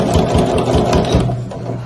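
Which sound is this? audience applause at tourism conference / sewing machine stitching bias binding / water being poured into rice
sewing machine stitching bias binding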